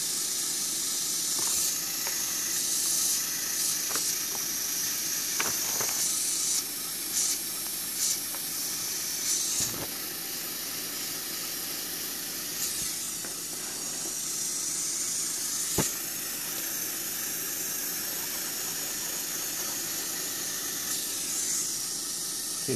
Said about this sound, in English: If you're going to be doing any painting at all, get a decent airbrush.